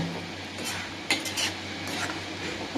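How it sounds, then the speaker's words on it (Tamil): A masi dried fish gravy is stirred in a pot, the utensil scraping and clinking against the metal, with a sharper knock midway, likely the lid going on, over a low steady cooking hum. "மக்களை நல்லா கலந்து விட்டு மூடி வச்சுருங்க"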